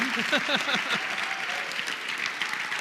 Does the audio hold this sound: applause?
yes